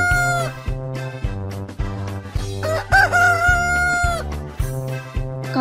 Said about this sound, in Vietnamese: À, đó chính là con gà trống đấy các em ạ.